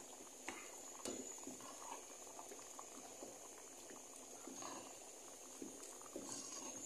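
Water boiling in a pot for ugali, a steady low bubbling and hiss with occasional soft pops, faint and continuous with no talking.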